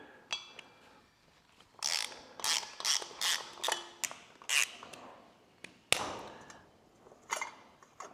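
Close ratchet clicking on the brake rotor bolts of a Ducati Desert X, worked with a T40 bit in repeated short bursts of rapid pawl ticks, with metallic taps and a sharp clank partway through.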